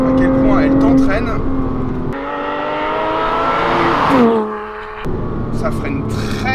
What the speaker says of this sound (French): on peut un peu donner vie à cette Porsche Cayman et la laisser se dégourdir les pattes